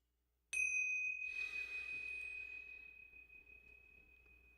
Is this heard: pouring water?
no